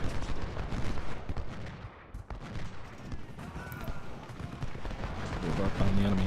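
Cannon and musket gunfire from an American Civil War battle at Shiloh in a strategy video game, a dense, continuous rumble of shots and artillery booms at steady loudness, with a voice talking over it.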